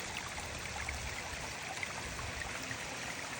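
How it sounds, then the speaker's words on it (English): Water cascades over weir flashboards in a steady, continuous wash, fairly quiet and even, like a low spillway pouring without pause. "the cascading water coming over the Weir flashboards"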